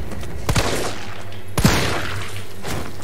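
Two sharp gunshots ring out in the Resident Evil 3 demo, about a second apart, loud and punchy against a steady game-ambience hum.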